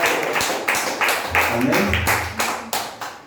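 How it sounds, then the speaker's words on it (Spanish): A Pentecostal church congregation claps in a brisk, regular rhythm, crisp hand strikes repeating at a steady pace while a voice speaks briefly in Spanish over them. "Den el aplauso fuerte al Señor por eso"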